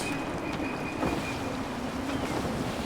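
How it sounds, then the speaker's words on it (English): Steady wind and water wash around a sailing ship in Assassin's Creed 3, a constant full-band rush with no talk in the clip. "Man, it's windy around here, isn't it?"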